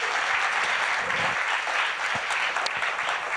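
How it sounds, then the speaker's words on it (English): A conference audience gives a warm round of applause at a sustainable development event, a thick, continuous wash of clapping from a large room, steady and fairly loud. "A very warm round of applause."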